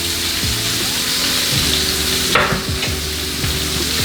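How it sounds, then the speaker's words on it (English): Green onions, peppers and mushrooms hit hot oil in a pan with a steady close sizzle, broken by a few scrapes and clatters of stirring, and a sharp splash of added sound around midway. "now I'm gonna add my veggies in there. Green onions, peppers,"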